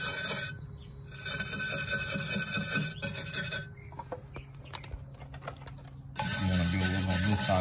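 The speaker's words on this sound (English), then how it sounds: "Wire brush off enough that you don't have that corrosion in there" Wire brush scrubbing corrosion from a galvanized boat trailer, a steady raspy scraping that runs in bursts with brief pauses, close and fairly loud, with no talk over it.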